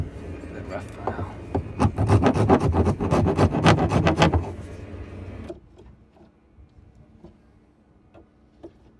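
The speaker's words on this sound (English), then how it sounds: "I think the file works best for that. It's a rough file." Coarse hand file rasping across the bottom corners of a wooden companionway door, a loud run of quick, close scraping strokes for about five seconds, then quiet with faint ticks.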